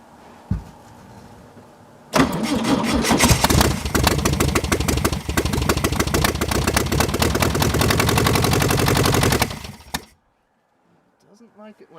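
A 1966 Volkswagen Beetle engine cranks and fires up for its first start, running loud and close with a rapid, rough air-cooled clatter for about eight seconds before cutting off, followed by faint quiet sounds.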